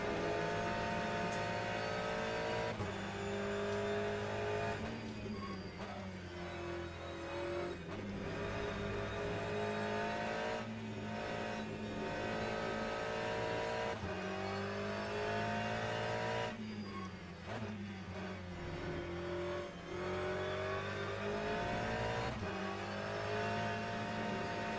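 Hypercar engine racing in the Le Mans Ultimate sim, a steady, loud engine drone with rising and falling revs through gear changes and a brief tire squeal, heard alone without talking.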